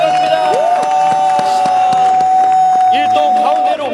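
Crowd cheering and shouting at a lively team game event, with sustained whoops and voices over scattered claps, loud and close throughout.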